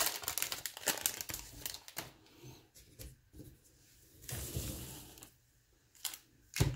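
Trading card packs torn open one after another, with loud close crinkling foil and sharp ripping bursts separated by short quiet gaps.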